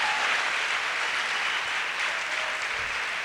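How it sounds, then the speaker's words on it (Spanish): An audience at a church women's congress applauds during an afternoon sermon, a steady, dense wash of clapping that fills the whole stretch at moderate loudness with no voices on top. "Alguien aplauda la palabra de Dios en esta tarde."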